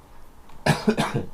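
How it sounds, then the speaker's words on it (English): A couple of sharp, close coughs in quick succession after a moment of quiet. "Excuse my cough."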